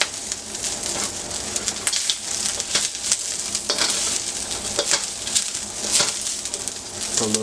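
Vegetables, garlic and onions frying in oil for beef chow mein: a loud, close crackling sizzle with bursts of stirring and tossing, spitting at irregular moments, and bird calls faint in the background.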